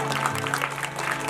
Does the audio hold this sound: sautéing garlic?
no